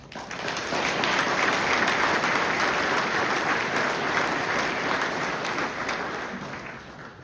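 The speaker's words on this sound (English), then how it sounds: "One more round of applause." Sustained applause from an audience at a sheriff's swearing-in ceremony in Chatham County, a dense steady wash of clapping that swells in quickly, holds for several seconds, then begins to taper, with no talk over it.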